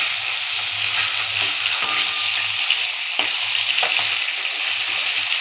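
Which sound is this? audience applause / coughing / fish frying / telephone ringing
fish frying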